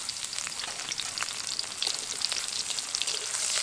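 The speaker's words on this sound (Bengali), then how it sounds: "পেঁয়াজটাকে বাদামি করে ভেজে নেব।" Chopped onions with whole cumin seeds sizzle and crackle in hot white oil in a kadai, a steady close frying hiss with scattered pops and no talking.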